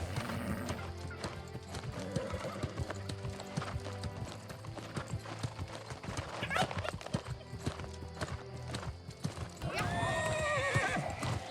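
A horse gallops in the New World video game with a rapid, steady clip-clop of hooves throughout, and a whinny rises near the end.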